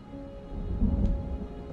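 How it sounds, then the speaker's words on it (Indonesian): Steady rain with low rumbling thunder in the video game The Sinner, a continuous storm bed with a slightly heavier roll near the middle and no voices. "Suasana untuk soundnya ini lagi kondisi lagi hujan sih, ada suara-suara petir."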